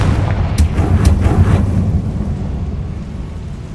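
A Confringo fire spell explodes in the game Hogwarts Legacy: a few quick, loud booming blasts hit in the first two seconds, then a rumbling roar trails off into a fading low tail.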